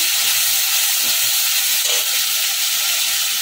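Browned potatoes and spices sautéing in a pan for Bengali niramish mochar ghonto, a steady loud sizzling hiss filling the whole stretch without pause, with no talking.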